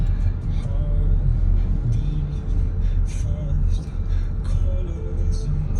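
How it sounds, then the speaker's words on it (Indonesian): Morning traffic rolls along Jalan Raya Canggu in Bali, a continuous rumble of passing cars and motorbikes with engines rising and fading close by, and a voice talking over it. "Sudah mulai banyak mobil-mobil"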